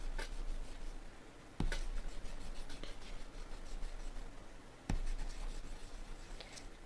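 Graphite pencil scratching and erasing on paper while sketching a Scottish Terrier, a steady close scraping with two sharp taps as the pencil is set down, no voices.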